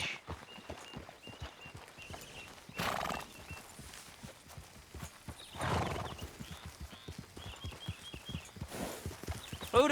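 Hooves clip-clop in a steady walking rhythm as a horse is ridden in the video game Red Dead Redemption 2, with occasional snorts and a whinny, fairly quiet and close.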